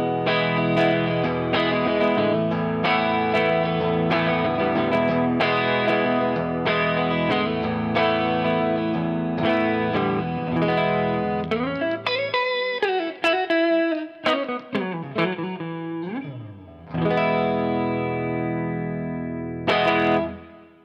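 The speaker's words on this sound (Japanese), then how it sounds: "このウルテム一番爪の音に近いと言われているウルテムのティアドロップを弾いてみたいと思います" Electric guitar strummed with a Clayton Ultem teardrop pick, known for a fingernail-like attack, played through effects with distortion and chorus; sustained chords ring continuously, then break into choppier strums and slides near the end, with no talking.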